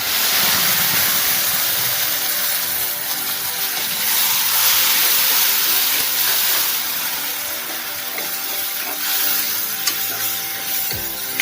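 Ripe tomato paste sautéing in oil for a tamarind curry of brinjal and drumstick, giving a loud, continuous sizzling hiss that stays close and steady throughout, with small crackles near the end.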